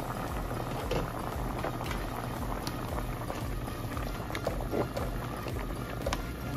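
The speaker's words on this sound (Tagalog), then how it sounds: "So ngayon kumukulo na siya." Pork pata humba boiling in a covered pot, a steady close bubbling and churning with soft pattering pops throughout, no voices.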